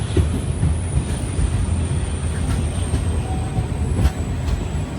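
A train pulling out of Ramanathapuram station on the Pamban route rumbles loudly close by, with heavy low clatter from the wheels, brief metallic squeals and clicks over the rails, and no speech.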